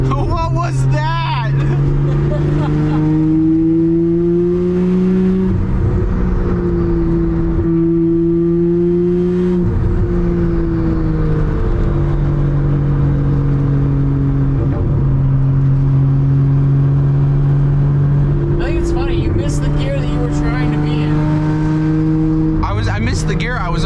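A Toyota JZX81 with a 1JZ engine drones loudly from inside the cabin, revving up and down as a gear shift is fumbled, a steady engine hum with pitch swings and a sharp dip, while people talk over it.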